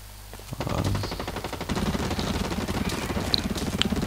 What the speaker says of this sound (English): someone's shooting over there